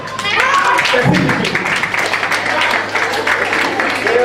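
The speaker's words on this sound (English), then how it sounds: "All the men, all the boys, clap for her." Men and boys clap for a girl at a peace education event in a Kaduna school hall, a brisk burst of group applause mixed with overlapping voices and chatter throughout.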